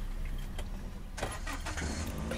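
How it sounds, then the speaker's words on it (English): A car engine cranks and starts up, low and muffled, heard from inside the vehicle with a steady rumble underneath. "engine on,"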